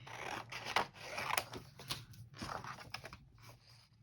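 Scissors cut through scrapbooking paper along traced pencil lines while making a tree-shaped advent calendar, giving a close, quiet run of repeated snips and rustling paper in an uneven rhythm, with no voices.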